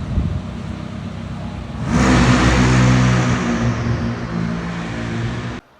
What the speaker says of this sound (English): I start hearing a really loud car zooming by. And guess what? It's a McLaren 600 LT.